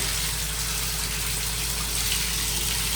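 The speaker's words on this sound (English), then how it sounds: "Now let's run the water." Water gushing from a bathroom tap in a Days Inn hotel room in Orlando, a steady, close, noisy rush with a low hum beneath, continuous and unbroken.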